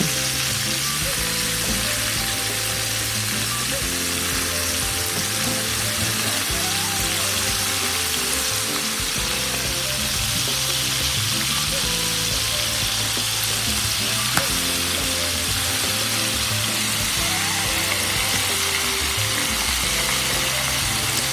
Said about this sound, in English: Now let's just watch the beauty of the chicken frying.